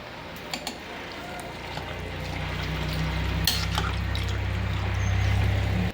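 Water pours into a cooking pot, a steady rushing stream that grows fuller and louder as the pot fills, with a few light clinks at the start.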